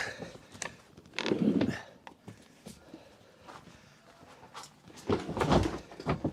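Wooden knocks, bumps and clatter as wooden doors are handled and fitted into place on an allotment compost enclosure, with a couple of louder clustered thuds and scrapes.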